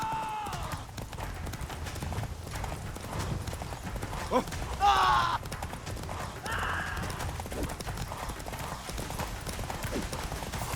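Hooves of Roach, Geralt's horse in The Witcher 3, clip-clopping at a fast gallop in a steady drumming rhythm through a game chase, with a whinny midway and voices speaking over the action.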